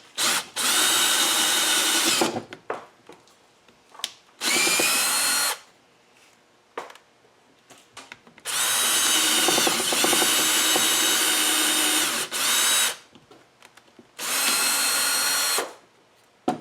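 A power drill with a 3/8 inch bit bores into wood while a vise is installed. It runs in four loud, sustained bursts of whirring and grinding, separated by quiet gaps with small handling clicks.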